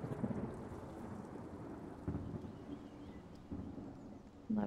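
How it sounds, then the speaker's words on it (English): Thunderstorm in the Stranded Alien Dawn video game: steady rain hiss under low rolling thunder, with a few sharper thunder cracks swelling near the end. "Lovely thunderstorm."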